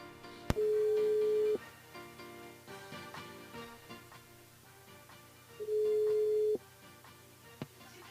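A telephone call ringing out during a radio show, two long steady ring tones a few seconds apart over faint background sound, with small clicks between.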